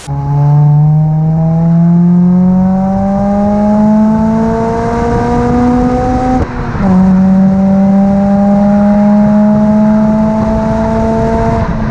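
A deep, steady exhaust drone from a Honda Accord CL9 with a Yonaka catback exhaust held at revs, rising slowly in pitch, with a brief dip partway through before resuming, loud and close.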